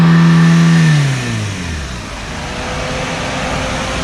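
The engine of a used car on a dealer's lot, likely an SUV or MPV, held at a loud high rev that drops away after about a second and settles into a steady, lower running note.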